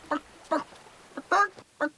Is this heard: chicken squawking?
yes